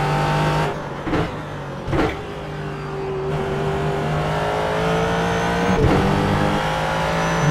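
A race car engine from the iRacing sim drives a track, a loud continuous engine drone with rising pitch as it accelerates and a few short gear-shift dips early on, without any talk.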